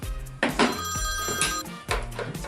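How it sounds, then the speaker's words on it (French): A telephone rings loudly in repeated bursts, each ring a bright electronic trill with a brief pause between, heard alone without talk. "j'ai l'autre téléphone qui sonne"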